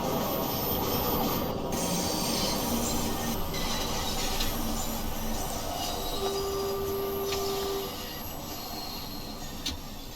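A London Underground train runs between stations with a loud, steady rumble of wheels on rail, plus a brief squeal partway through. There is no talking.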